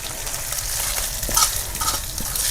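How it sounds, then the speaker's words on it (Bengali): Spice tempering being stirred into khichuri of cooked rice and lentils in a pan, a steady soft sizzle with scraping stirs and a few brief clinks, close and alone without talk. "ফোড়নটা আমি এর মধ্যেই দিয়ে দেবো।"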